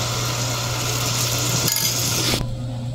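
Steady sizzling and frying of quail-egg kwek-kwek in a pot, with a constant hum underneath; the sizzle cuts off abruptly near the end.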